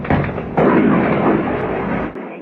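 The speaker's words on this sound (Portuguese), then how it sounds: "eu gravei uma explosão" Russian missile explosion captured on camera, a loud broadband blast that swells into a sustained rumbling roar for about two seconds before cutting off abruptly.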